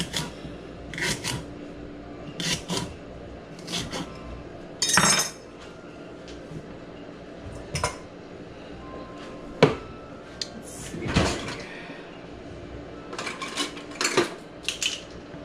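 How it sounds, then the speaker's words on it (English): Knife chopping strawberries and rhubarb on a cutting board for jam, irregular sharp knocks and scrapes spaced a second or two apart, moderately close with quiet gaps between. "So I'm just gonna roughly chop because I will be blending these up."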